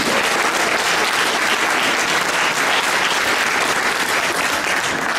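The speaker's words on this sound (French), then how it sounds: "applaudissez-vous" A crowd applauds itself at a local election campaign evening for an urban canton team, a dense, steady burst of clapping filling the room without pause.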